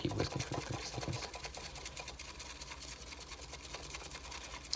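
Matcha whisked rapidly in a bowl to build foam, a fast, steady, faint scraping and swishing that runs continuously without pause.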